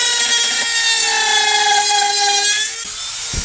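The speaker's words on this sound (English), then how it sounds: "I'm going to drill this here with the cutting bit and to see if I can cut this plastic out" Drill fitted with a cutting bit grinds through plastic on a 2015 Ford Focus during engine mount work, a loud, close, continuous high-pitched whine that dips briefly near the end.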